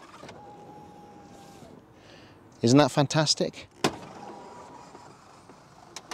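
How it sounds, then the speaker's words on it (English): A low electric motor whine hums as the vertical sliding door of a BMW Z1 moves, pauses while a person speaks briefly, then the motor whirs again. "the vertical doors, which you open and close using from the outside this button"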